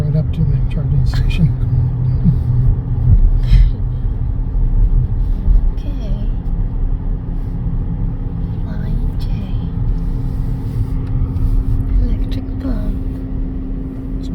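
A 2023 BMW i4 M50 electric car rolls along with a steady low road rumble and tire hum, while someone talks over it throughout.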